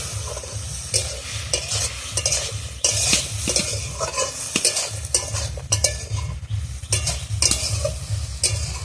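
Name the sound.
stirring and sautéing pumpkin greens curry in pan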